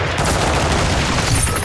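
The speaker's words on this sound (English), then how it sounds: "Dude, why are you shooting at me?" Rapid gunfire in Call of Duty Modern Warfare 2 DMZ mode, a continuous loud burst of automatic shots close by, dense and unbroken for the whole moment.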